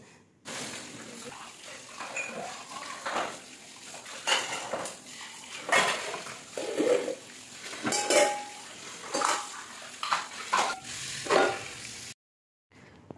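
Dishes being washed in a kitchen sink, with plates, pots and cutlery clattering and clinking in repeated bursts alongside running water, close and fairly loud throughout before a brief quiet at the end.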